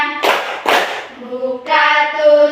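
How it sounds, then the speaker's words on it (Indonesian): Two quick, sharp hand claps ring out close by in a children's clapping song, followed by a sung voice. "Buka tutup, bertepuk tangan."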